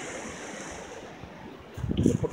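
A small waterfall beside a hiking trail on a stream gives a steady, soft rushing wash of water, with wind-like noise and a short louder rumble near the end.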